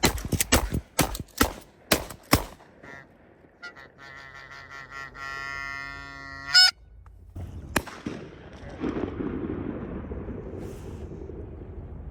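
Canada geese honking on open water, a burst of loud close calls at the start followed by a stretch of layered, repeated honks, then quieter mixed background noise.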